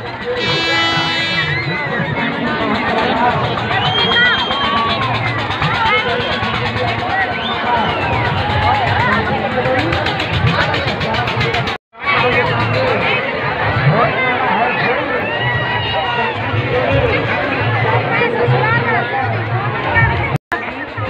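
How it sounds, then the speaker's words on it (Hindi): A large, loud crowd at the Sharad Utsav fair in Barkot, with continuous close chatter and babble from many voices, with no let-up apart from two momentary dropouts. "मेले में बहुत भीड़ है"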